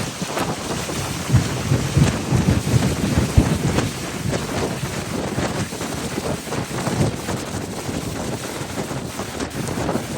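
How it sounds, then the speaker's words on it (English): Strong wind buffets the microphone on a boat outdoors on an autumn lake in Alaska, a loud, rumbling roar with heavy low-end gusts and thumps that continues without letup, no voices present. "when I'm on a boat and it's really windy, the only thing you're going to be hearing is this"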